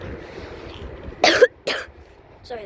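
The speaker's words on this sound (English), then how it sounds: "Sorry, that's just me coughing." A person coughs twice in sharp, loud bursts at an airport plane-spotting spot, with a fainter throat-clearing sound trailing after against quiet background hum.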